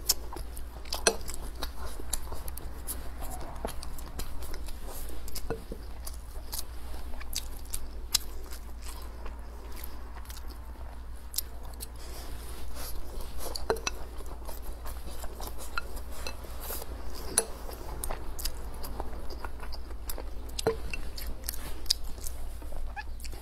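Close, steady chewing and biting of Mei Cai braised pork, pork belly with preserved mustard greens, with soft crunches and occasional light cutlery clinks, continuous with no talk.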